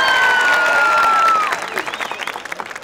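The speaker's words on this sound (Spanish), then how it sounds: "¡Aplauso para él!" Applause and cheering from an audience at a Halloween costume dance contest, loud and steady at first, then thinning into scattered claps and shouts, with a sustained tone running over the start.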